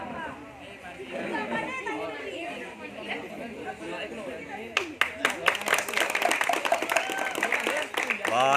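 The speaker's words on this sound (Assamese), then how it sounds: "এবাৰে তালিৰ আৱাজ ওলছে" Audience at a student award and felicitation ceremony bursts into loud clapping after a stretch of crowd chatter, the applause building to a dense, sustained roar filling the room.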